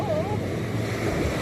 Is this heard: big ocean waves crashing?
yes